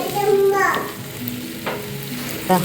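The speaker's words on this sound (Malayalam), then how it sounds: "തക്കാളീനെ നമുക്ക് നന്നായിട്ട് വഴറ്റിയെടുക്കാം" Tomatoes and onions sauté in a pan for a chicken curry, with close sizzling and the scrape of stirring; a few short tonal sounds come through in the background.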